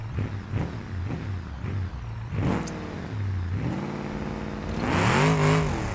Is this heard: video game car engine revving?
yes